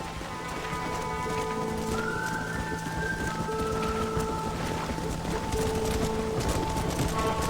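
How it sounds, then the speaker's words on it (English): Steady rain of a thunderstorm in the video game Red Dead Redemption, a continuous wash of downpour noise throughout, mixed with horse hoof clip-clop and sustained musical tones. "This storm came out of nowhere."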